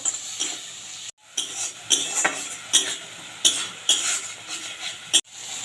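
Tomato paste and spices being sautéed in oil for a raw banana curry, with repeated scraping stirs against the pan over a bright sizzle, in bursts separated by short pauses.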